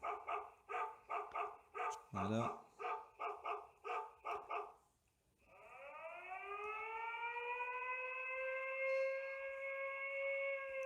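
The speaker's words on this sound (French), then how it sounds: "Donc si je vous mets sonnerie du chien" An electronic dog bark ringtone from a Xiaomi smart home alarm hub repeats in a quick, even series, then gives way to a loud, steady rising siren tone.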